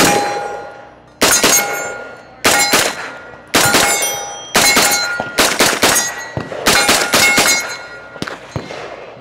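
A Live Free Armory Challenger 9mm pistol-caliber carbine, an AR-style rifle, fires at steel targets: eight sharp, loud shots, each followed by a ringing metallic clang, spaced about one second apart and then coming faster toward the end.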